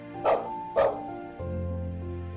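A white-furred puppy in a narrated story gives two short, bright barks in quick succession, close and clear, followed by a low sustained tone.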